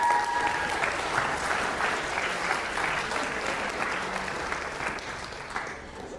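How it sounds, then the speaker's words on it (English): Lecture-hall audience applauding a student volunteer called up on stage at a game theory class, steady dense clapping sustained throughout at fairly close range with no talk over it. "can I get a round of applause for Li Xing Chang?"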